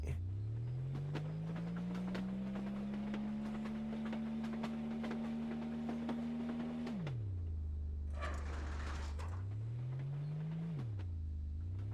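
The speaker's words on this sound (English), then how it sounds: "Now we have successfully turned this train around." A train in the game Obduction moving and reversing, a loud mechanical drone that holds steady, drops sharply, then rises and falls again, with a brief hiss and clanks partway through.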